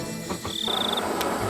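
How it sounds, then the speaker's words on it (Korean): Crickets chirping on an autumn night in the countryside beside a house, a steady faint insect trill forming a quiet outdoor bed with no voices. "귀뚜라미도 울어."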